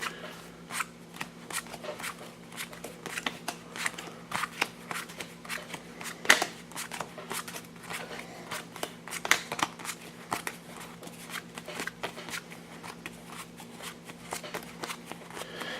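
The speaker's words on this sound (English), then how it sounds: "And then let's just pile shuffle these out." A 60-card Magic: The Gathering deck being pile-shuffled, the cards laid down one after another in quick, crisp taps and soft slaps, close and fairly quiet, with a few sharper snaps in between.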